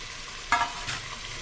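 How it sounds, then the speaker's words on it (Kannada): Onions fry in a pan for vegetable biryani, a soft, even sizzle with a single sharper scrape of a spoon partway through, fairly quiet and close. "ಈರುಳ್ಳಿ ಹಾಕ್ಬಿಟ್ಟು ಚೆನ್ನಾಗಿ ಫ್ರೈ ಮಾಡ್ಕೊಳ್ಳಿ"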